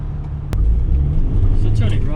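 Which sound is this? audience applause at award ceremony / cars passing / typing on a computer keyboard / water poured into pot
cars passing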